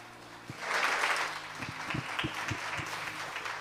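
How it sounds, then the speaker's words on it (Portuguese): A church congregation applauding in praise during a worship service, a swell of clapping that rises then thins into scattered, uneven claps over a low steady hum, moderately distant. "Você é capaz de glorificar a Deus e dar uma salva de palmas a Ele?"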